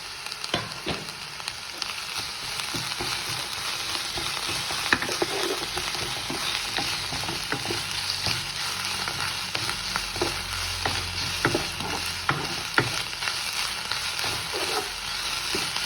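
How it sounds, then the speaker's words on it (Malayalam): Thinly sliced onions with ginger garlic paste sautéing in a pan, a continuous close sizzle broken by frequent scraping stirs and small clicks of the spatula, with no voices. "ഇതിൻ്റെ പച്ചപ്പ് മാറുന്നവരെ വഴറ്റിയെടുക്കണം"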